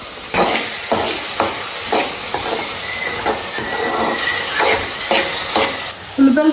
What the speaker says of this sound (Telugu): ఉల్లిపాయలు బాగా మగ్గాయి అత్తయ్య గారు